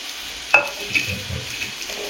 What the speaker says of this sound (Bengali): দিয়ে দেবো ধনে গুঁড়ো, এটাকে একটু কষাবো।